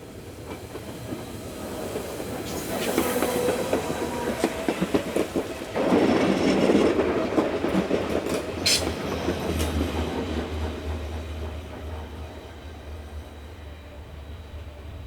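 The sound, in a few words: Südostbahn Class 526 train running on Swiss mainline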